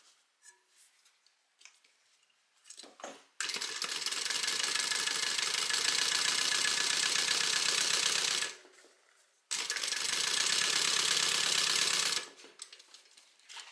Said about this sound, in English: when we top stitch, we're just top stitching this zipper tape down